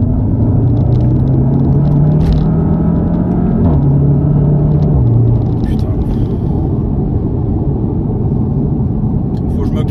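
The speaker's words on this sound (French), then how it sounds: "Et je suis obligé de vous faire une accélération en vrai." A car built on the same VAG chassis as an Audi S3 accelerates hard, its engine rumbling loud and close from inside the cabin, pitch rising and stepping through gear changes, with a brief voice near the end.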